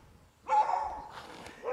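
A dog barks somewhere nearby outdoors, giving a couple of short, moderately loud yelps with a brief pause between them.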